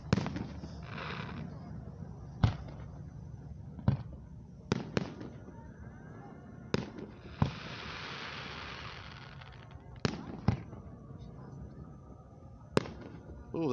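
Fireworks burst over Grand Lake St. Mary's at the Celina Lake Festival show, a string of sharp booms spaced a second or two apart, some followed by crackling, with spectators' voices between blasts.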